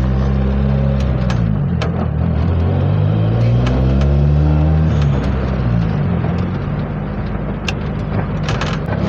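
A turbocharged Honda Civic Estilo driving through a residential complex, its engine a loud close rumble rising and falling as it shifts and accelerates, with mechanical clicks and rattles on top and no talking.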